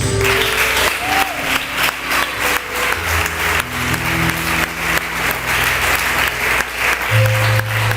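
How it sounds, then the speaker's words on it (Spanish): A church congregation breaks into loud, sustained applause, a dense wash of clapping that fills the room, with held instrumental tones underneath throughout. "Aplaude a Jesús"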